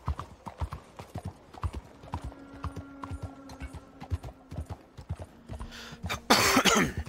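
Horse hooves in Red Dead Redemption 2 clop in a steady trotting rhythm, close and fairly loud, with a brief burst of louder noise near the end and little else over them.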